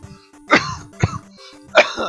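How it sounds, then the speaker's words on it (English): Three harsh, close coughs in quick succession, with a throaty, rasping quality and brief pauses between them. "Hopefully my coughing isn't too loud in the finished video."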